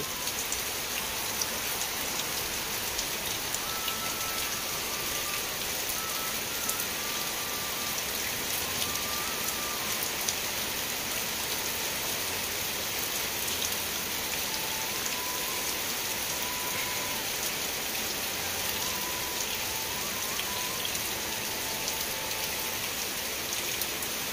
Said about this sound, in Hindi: सामने प्रबल जोर वर्षा हो देखो